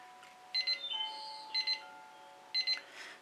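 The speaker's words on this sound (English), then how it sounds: "Sorry about the timer" A kitchen timer alarm beeping in an art studio, three evenly spaced bursts of quick high electronic beeps, each a double pulse, clear and close against a quiet background.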